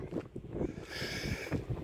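Steady rushing wind buffets the microphone outdoors during sea fishing at Dunkirk, a continuous roar with gusts rising and falling, with some faint water or boat noise underneath.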